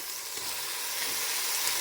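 A constant close sizzle and hiss of vegetables frying in a hot pan, bright and crackly, with no voices.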